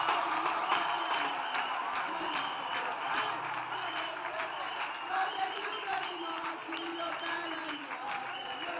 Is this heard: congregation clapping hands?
yes